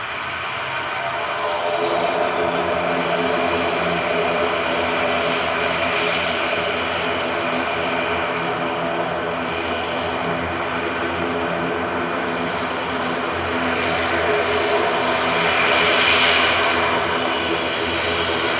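An Aer Lingus Regional turboprop airliner departing Manchester Airport, bound for Belfast, roars with a steady, loud, droning engine and propeller tone that swells near the end, a voice talking over it at times.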